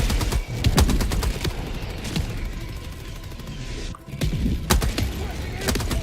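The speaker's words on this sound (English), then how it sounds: "Cluster bomb." Cluster bomb strikes in the video game Helldivers crack off as a rapid string of sharp blasts and bursts over a dense battle din, with a brief lull before more explosions.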